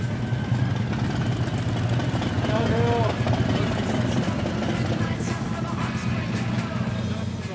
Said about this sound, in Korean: 무슨 소리인가 했더니 아하, 이거 반가운 엔진 소리네요.